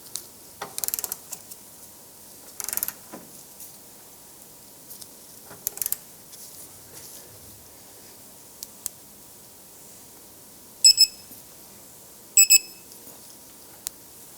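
Torquing a rear lower control arm bolt on a Ford Escape to 129 foot-pounds brings soft rustles and handling noises, then two short bursts of rapid metallic clicking from the torque wrench, faint and close, with no voices.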